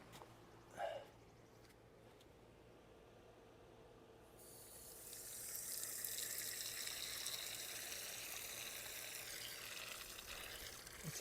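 Water pours steadily into a 20W solar fountain basin, a soft hissing splash that starts after a few seconds of quiet and continues at an even level.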